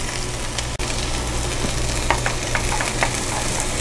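Beaten eggs sizzle and fry in a hot pan with browned beef for beef fried rice, a steady close crackle with a few sharp spatula taps and stirring scrapes, no talking.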